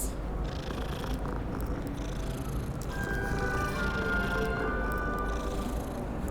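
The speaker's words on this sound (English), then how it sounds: "cats." A cat purrs in a steady, continuous low rumble inside a Hogwarts castle game setting, close and unbroken for several seconds with a faint higher tone drifting over it.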